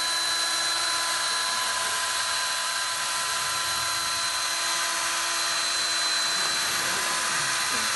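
A power mixer spins steadily in a bucket of GacoFlex S-20 coating, scraping along the bottom and corners, giving a constant high-pitched whine with a faint low churning underneath, alone and unbroken throughout.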